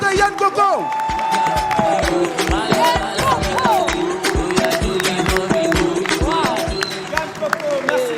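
Audience applause at a Fête de la musique concert after a singer's set: dense, continuous clapping from a crowd, mixed with voices throughout.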